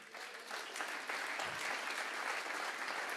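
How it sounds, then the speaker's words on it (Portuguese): A church congregation claps steadily, a dense and fairly faint wash of applause that continues without a break. "Vamos lá, aplaude Jesus aí"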